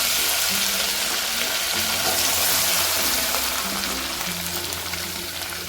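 Ground masala sizzling in a pan for Kolhapuri misal while being stirred, a dense close hiss with intermittent scraping and a low hum underneath, steady throughout.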